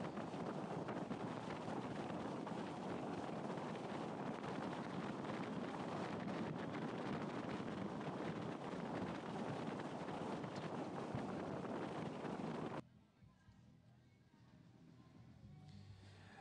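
Heavy wind buffets the microphone in a loud, continuous roar on the windy Gibraltar Range during a cycling race, then abruptly drops to a quieter rustle near the end.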